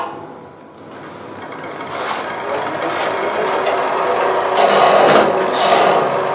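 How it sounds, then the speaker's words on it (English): A small bowl gouge cuts into wood while hollowing a vessel on a lathe, a steady rasping scrape that swells and grows louder toward the end, close and continuous with no talk. "Just try a little bowl gouge here for a while just to get rid of some of this wood."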